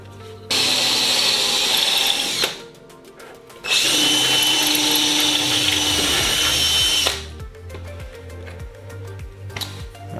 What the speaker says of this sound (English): I'm just gonna drill out this last hole.